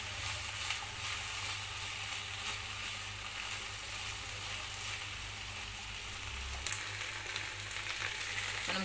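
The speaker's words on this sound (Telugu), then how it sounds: "కాల్ కేజీ బెండకాయలు తీసుకొని కొంచెం ఆయిల్లో బాగా ఫ్రై చేసుకోవాలండి" Okra (bendakaya), about a quarter kilo, fries in a little oil with a faint, steady sizzle and soft crackle, heard close and alone with a low background hum.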